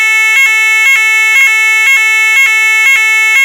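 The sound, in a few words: ESSER fire alarm sound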